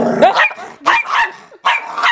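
A dog barks in three loud, close bursts with short pauses between them, a few growly yips mixed in, and no talking over it.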